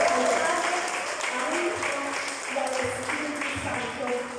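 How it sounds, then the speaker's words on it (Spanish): A church congregation applauds during a Spanish-language service, a moderate wash of clapping with voices and tonal sounds mixed through it. "Démosle un fuerte aplauso"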